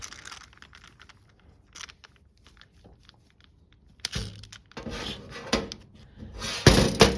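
A flaring tool is wound down to form a flared end on metal hard line, giving close scraping, grinding creaks that start sparse and faint, then turn louder and denser in rubbing bursts toward the end.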